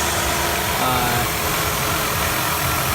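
A 2001-2006 Ford Escape 3.0L V6 engine idles with a steady, loud rumble close by after new spark plugs; a voice may be faintly mixed in.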